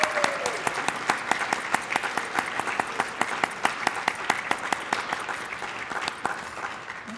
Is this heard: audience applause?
yes